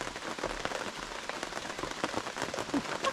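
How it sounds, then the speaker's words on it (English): Steady rain falling outside a truck camper, a dense close patter of drops drumming on the surface without pause, heard alone without talk. "The rain hasn't let up yet."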